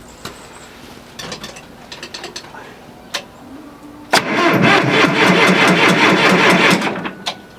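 A John Deere tractor engine cranks and catches in cold weather: faint clicks and short bursts first, then a loud, steady, close running roar for about three seconds before it cuts off.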